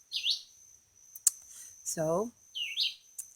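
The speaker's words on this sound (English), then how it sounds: "that is a loud bird" A loud bird gives sharp, high chirps in short bursts at the start and near the end, with a brief spoken word and a sudden click between them.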